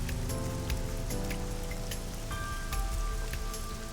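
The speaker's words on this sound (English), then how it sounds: "This rain is depressing. Had it been like this all day?" Rain in the video game AI: The Somnium Files pours steadily over a crowded city of skyscrapers, with constant pattering and soft ambient tones humming beneath, and no speech.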